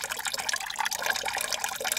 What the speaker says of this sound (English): Are you pissing, Joe?